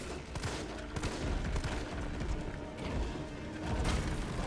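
Gunfire rattles in Resident Evil 3 Remake, a busy stretch of rapid shots and mechanical clicks, fairly quiet and continuous.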